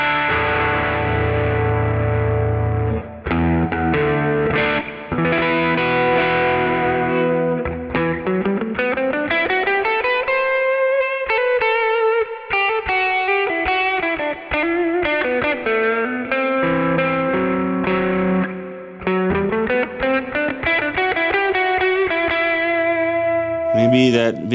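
Heavily distorted electric guitar played through a Vintage Microtubes effect, loud and continuous, with sustained chords and sliding bends in a steady, dense tone and a brief sharp burst at the very end.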